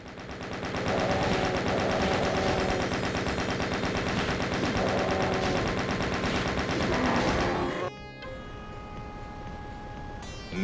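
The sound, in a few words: chaingun fire in the video game DOOM (1993)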